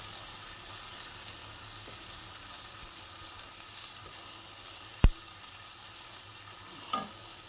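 Spice masala for potol dolma fries in oil under a faint, continuous sizzle, with scattered light spatula scrapes and taps and one sharp knock against the pan midway.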